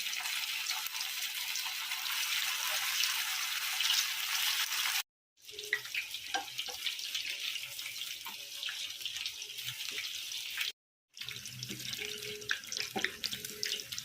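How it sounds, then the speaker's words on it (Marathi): Sabudana vadas, tapioca pearl fritters, deep-fry in hot oil with a steady, close sizzling hiss broken by two brief silences and a few faint clinks. "हे आपले साबुदाना वडे तळू आपण"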